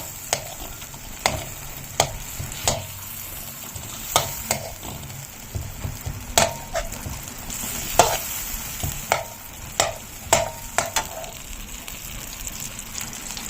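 Butter melting and sizzling in a hot pan, a steady crackle broken by sharp clicks of a spoon or spatula stirring, close and fairly loud with no talking.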